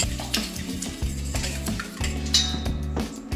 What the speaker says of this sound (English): And you give this a good whisk.